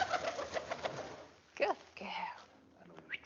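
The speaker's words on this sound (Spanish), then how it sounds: "Supongo que la habéis escuchado, el vuelo de la paloma." A pigeon is released to fly past microphones set up for nocturnal bird monitoring. Faint, rapid rhythmic wingbeats are followed by a few soft fluttering swishes, all quiet and fairly distant.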